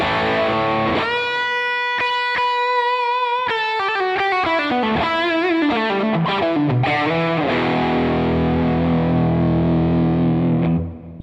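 A PRS DGT electric guitar on its bridge pickup plays heavily distorted chords and bends through an amp, loud and close, ringing out before cutting off at the end.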